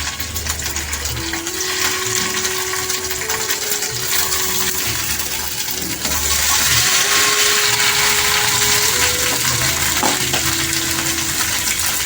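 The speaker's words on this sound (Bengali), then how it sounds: "এগুলো ক্রিম পানির একটু কড়াইতে দিয়ে আমি সামান্য ভেজে নেবো" Loud, continuous sizzling of paneer frying in a kadai, a bright crackling hiss that swells louder partway through, with a faint tonal whine running beneath.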